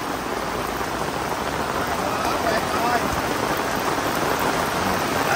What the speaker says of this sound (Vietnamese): Chiều nay là trời mưa kiểu này chắc cái dài lắm á